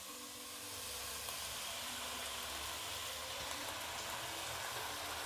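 Banana flower sautéing with tomato in a pan for sambar gives a steady, even sizzle, faint and continuous with no talking.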